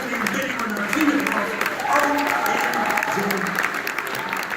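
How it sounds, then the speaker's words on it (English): Audience applause at a New Zealand variety artists' awards ceremony, the Benny awards, a steady broad wash of clapping filling the room for several seconds as a winner heads to the stage, with crowd voices mixed in. "you're going to give her a nice big round of applause as she makes her way to the stage"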